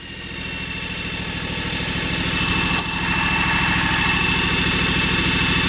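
A lawn tractor engine idles close by with a loud, steady, even rumble that holds throughout, with no talking over it.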